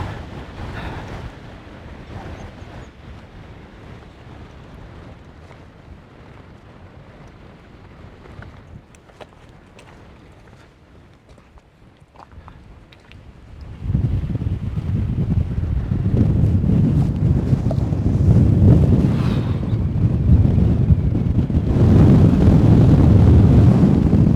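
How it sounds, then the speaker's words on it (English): Strong wind roars and buffets the microphone on the summit of Ingleborough, light at first and then surging into a loud, sustained gusting rush for the second half. "You wouldn't believe how windy it is up here. It really is blowing."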